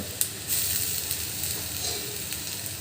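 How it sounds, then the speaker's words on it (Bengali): Garlic sizzles in hot oil in a pan for a beef tripe fry, a steady close crackle with brief stirring scrapes and small pops throughout, no talking. "এখন আমি এখানে অ্যাড করব রসুন"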